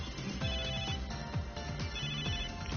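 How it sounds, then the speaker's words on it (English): A cheerful electronic phone ringtone from Megadimension Neptunia VII plays a short repeating melodic phrase several times, steady and clear with no talking over it. "That's my in-gear ringtone."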